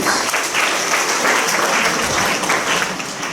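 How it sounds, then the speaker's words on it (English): Loud, close applause fills a hall at an Intellectual Property Day event, a thick continuous patter of many hands clapping at a steady level. "Round of applause for this."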